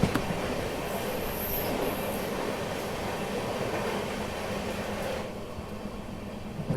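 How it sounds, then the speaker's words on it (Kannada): Cauvery Express passenger train passing on the outer line near Jolarpettai, a steady, loud rolling rumble with rail clatter and a high wheel squeal riding over it, heard up close from another train without talk. "MGR Chennai central Kaveri express cross ಆಯ್ತು"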